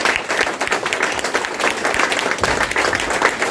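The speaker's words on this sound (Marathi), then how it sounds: "जोरदार टाळ्या." Dense, steady applause from an audience at a school award ceremony in Pune honouring students and teachers, with close, continuous clapping throughout and no speech over it.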